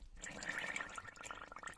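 Sauerkraut brine bubbling and gurgling in a fermenting jar, a faint, close, continuous wet burble of small bubbles.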